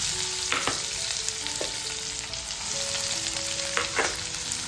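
Cumin, chopped green chilli and finely chopped onion frying in hot oil in a pan, a steady close sizzle with a few soft scrapes of stirring and no voices.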